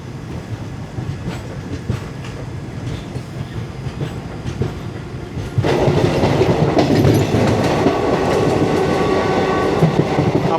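Amrita Express passenger train running on rails out of Ottapalam, with a steady rumble of wheels and carriages that grows louder and busier about halfway through, continuous rolling clatter throughout.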